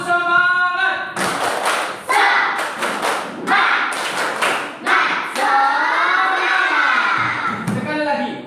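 Classroom children at an Islamic school lesson doing a rhythmic spirit clap: a run of sharp, patterned claps and thuds from a group, close and loud, mixed with their shouting voices chanting along.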